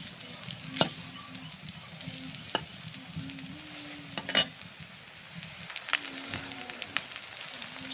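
Food fries in a pan with a soft, steady sizzle, broken by occasional clinks and scrapes of a utensil stirring; a voice murmurs faintly in the background.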